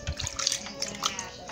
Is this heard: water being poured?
yes